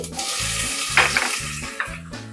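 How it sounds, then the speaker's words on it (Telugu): Whole spices, onion and green chillies frying in a pan for pulao, a steady loud sizzle with a few sharp stirring scrapes and clinks on top, close up and without speech. "ఒక అర డజన్ పచ్చిమిర్చి ఇవి ముందుగా ఒక రెండు నిమిషాల పాటు వేగనివ్వాలండి"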